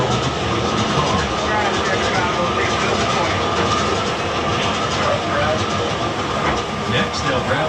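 Lionel model trains run on temporary layout track, pulling a whole train south past a switch and shoving it back into a yard track, giving a steady continuous rumble and clatter throughout, with a voice talking over it.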